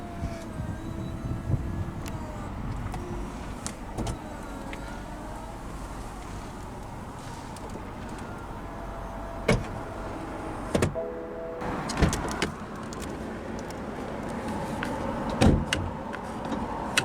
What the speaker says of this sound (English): use this switch to operate the power top